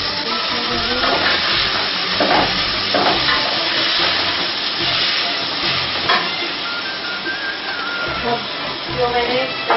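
Ginger garlic paste sizzles in a hot frying pan, a steady, loud, close hiss that fills the whole stretch without a break.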